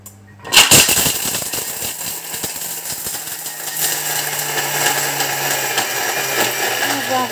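Thermomix pulverizing dark chocolate at speed 10 for a ten-second burst, a loud, steady whirring grind that starts abruptly and holds at full power with rattling chunks throughout.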